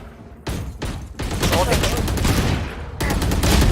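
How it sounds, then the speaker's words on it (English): Sheriff pistol gunfire during a Valorant esports match: loud shots burst out in clusters amid dense game sound that swells and stays busy to the end. "P35 has come up clutch with the Sheriff"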